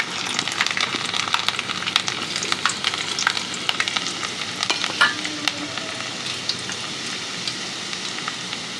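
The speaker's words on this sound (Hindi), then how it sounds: "गुवार की फली बनाने के लिए इधर तेल मैंने गर्म कर लिया है। मेरे पास कटा हुआ लहसुन है," Chopped garlic sizzling and crackling steadily in hot oil in a pan, a dense close frying hiss with scattered pops and occasional stirring scrapes, heard alone without talk.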